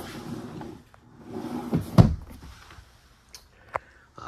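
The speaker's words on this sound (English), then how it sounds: "So the drawers both open up fine." Drawers in the kitchen of a 2018 Thor Palazzo 36.1 Class A diesel motorhome slide open and shut, a soft rumbling slide ending in one close thump, followed by a few faint clicks.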